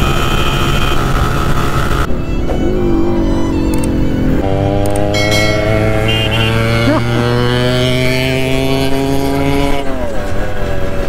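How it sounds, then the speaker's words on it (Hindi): A Yamaha RX100 two-stroke motorcycle engine revs close by, its pitch climbing and dropping through gear changes as the loud, raspy buzz carries on without pause. "इसकी आवाज सुन के तो लोग पीछे मुड़ के देखते हैं कौन सी बाइक आ गई"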